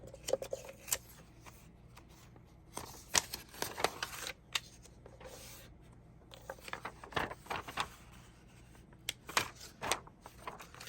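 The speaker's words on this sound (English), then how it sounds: "you can open up this envelope and you can cut where you creased it." A blade slices along the crease of a folded paper cash envelope, giving quiet, scattered scraping and crisp ticks in short bursts across a soft, steady background.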